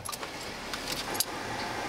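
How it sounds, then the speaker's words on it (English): A bunch of house, mailbox and garage keys jangles as it is handed over, with light metallic clinks and rattles scattered over a faint background rumble, near and fairly soft. "Turning in all my keys and my garage pieces."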